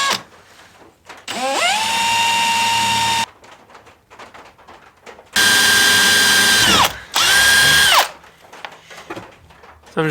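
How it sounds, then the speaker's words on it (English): A power drill bores holes in a rod for an extension cord and air hose storage rack, three loud close bursts of whining motor spin-up and steady drilling separated by quiet pauses. "I'll drill some holes in here in the end"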